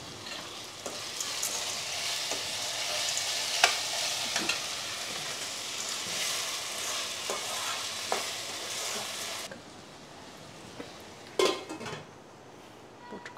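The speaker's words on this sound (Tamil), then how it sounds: "கொஞ்சம் நேரம் வதங்கிடட்டும்." Tomatoes sautéing in crab gravy for a field-crab dish, a steady broadband sizzle with scattered spoon scrapes and clinks against the pan, close and fairly loud, dropping quieter toward the end.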